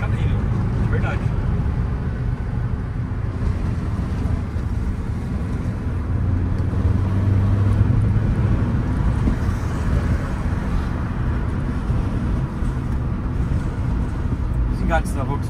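A Volkswagen Fox Highline 1.6 16V car engine drones steadily while driving, with a constant low-pitched hum and road noise filling the whole stretch; someone talks over it.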